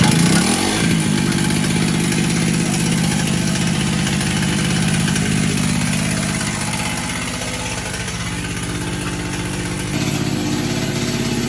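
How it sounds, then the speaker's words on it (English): A portable generator runs steadily just after being started, a loud continuous engine drone with a low mechanical hum that dips slightly in level midway before picking back up, with no talking over it. "Getting the generator started."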